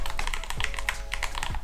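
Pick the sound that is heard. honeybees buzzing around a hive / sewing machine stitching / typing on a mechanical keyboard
typing on a mechanical keyboard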